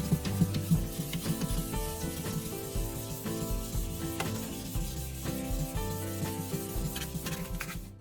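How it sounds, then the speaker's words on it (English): Sandpaper rubs steadily back and forth across a plastic headlight lens, a continuous close gritty scraping with rhythmic strokes and no talking. "As the sandpaper glides across the lens, the surface begins to look clearer."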